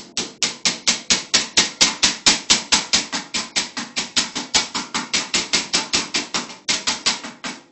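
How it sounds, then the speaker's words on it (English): A hammer taps a sheet metal Pittsburgh seam flat over and over in a fast, even rhythm, each strike sharp and ringing, close by, with one brief pause before the blows resume. "then I'm going to take the hammer"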